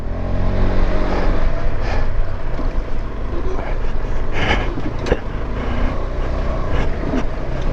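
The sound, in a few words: motorcycle throttle revving on off-road ride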